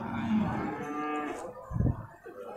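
Water buffalo lowing at a livestock market, one long, loud harmonic moo up close, then a deeper short grunt, with no talk.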